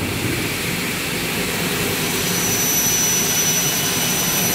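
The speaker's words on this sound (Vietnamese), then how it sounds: "anh em thấy là motor công suất là 6 kW, hai đầu máy, nghe tiếng rất là khỏe luôn" A 6 kW double-head aluminium cutting machine motor runs with a steady, dense, roaring whir and no change in pitch, loud and close throughout with no voices.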